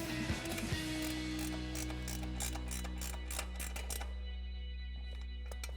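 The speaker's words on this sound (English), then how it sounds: "we can take an 18mm ratcheting wrench to tighten down our nut" An 18mm ratcheting wrench tightens a nut on a 2007-2023 Silverado/Sierra 1500 front suspension, giving quick bursts of close, crisp ratchet clicks over a steady low mechanical hum.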